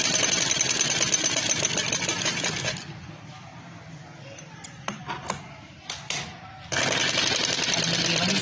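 A sewing machine runs in fast continuous stitching, stops for a few seconds with scattered small clicks and handling noises, then starts again, close and moderately loud.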